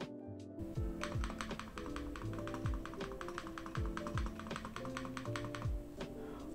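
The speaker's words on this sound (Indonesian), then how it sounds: "bahkan di keyboardnya aja menurut gue rattle-nya udah bener dikit banget" Rapid keystrokes on an Ajazz AK820 GTS Pro mechanical keyboard with Gift switches, a steady close clatter of crisp clicks and thocks with occasional louder spacebar hits, alone without talk.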